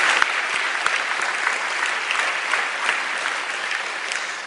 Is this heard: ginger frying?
no